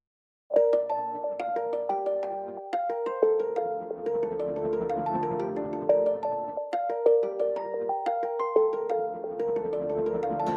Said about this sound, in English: altogether the synths sound like this